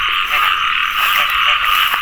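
Many frogs croak together after heavy rain, a loud, dense chorus of rapid buzzing calls that continues without a break, with no voices.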